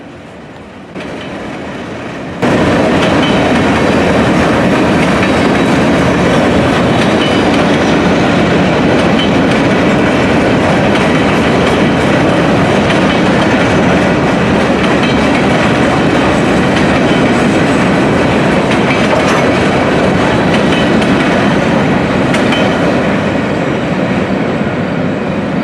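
A long freight train with mid-train DPUs and many gondolas loaded with slab iron rolls past near Altoona, Pennsylvania, a loud, steady roar of wheels and rattling cars that holds for the whole stretch after a quieter start.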